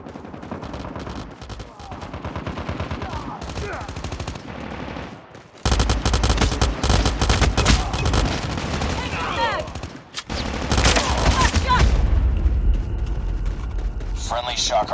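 In COD Mobile Team Deathmatch on the Rust map, a Pharo fires loud, rapid automatic bursts. Dense volleys are broken by brief pauses, with other battle noise and in-game voice callouts underneath.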